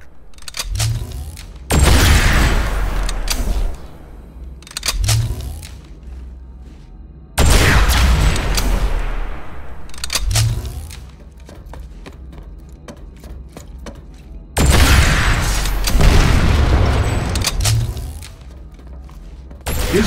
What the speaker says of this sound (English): Switch to your rocket launcher and use it to blow up an enemy vehicle.